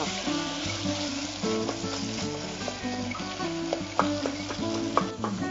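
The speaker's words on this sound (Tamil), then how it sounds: "கரண்டியாலேயே நம்ம அப்படியே மசிச்சு விட்டோம்னா அது நல்லா மசிஞ்சுக்கும்" A ladle mashes and scrapes masala in a frying pan, producing a busy run of metallic taps and scrapes over a continuous oily sizzle, close and fairly loud, with no voices.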